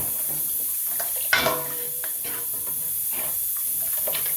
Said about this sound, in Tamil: உங்களுக்கு இப்போ தேவையான அளவு தண்ணி ஊற்றி நல்லா ஒரு கொதி விட்டிங்கன்னா